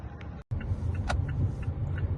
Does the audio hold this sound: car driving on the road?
yes